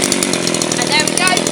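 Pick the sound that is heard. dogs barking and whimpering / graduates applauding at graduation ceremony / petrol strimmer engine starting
petrol strimmer engine starting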